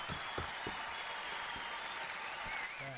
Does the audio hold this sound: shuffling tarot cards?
no